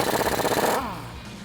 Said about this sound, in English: grab a 24mm socket and remove the nut on the lower ball joint